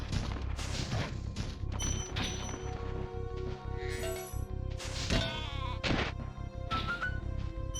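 Sheep bleating in Spyro the Dragon, a giant evil sheep boss fight, with repeated bleats over a dense game soundtrack, crashes and thuds close in the mix.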